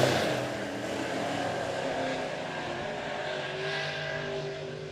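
USRA Modified race cars roaring through a heat race at Monett Motor Speedway, a loud continuous engine drone from several cars with shifting pitch and no break.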